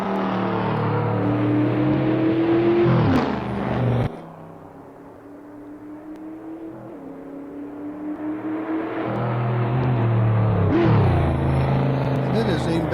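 Race car engine in the Assetto Corsa video game, revving loudly and steadily, dropping off briefly mid-clip before climbing back up, with a person talking over it.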